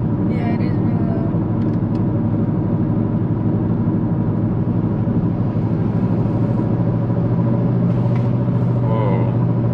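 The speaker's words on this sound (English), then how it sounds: "it sounds like the wheel's about to fall off, Jacob. Uh-oh. More problems. Wheel bearing time." A BMW 330xi on the move with a loud, failing wheel bearing, giving a steady low droning roar over road and engine rumble that holds constant throughout, with brief voices in the cabin near the end.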